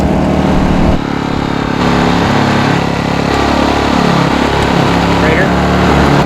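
An AIvolt Whisper Quiet inverter generator runs in eco mode, charging power packs. It gives a steady, loud, droning mechanical hum that never lets up, with someone talking over it.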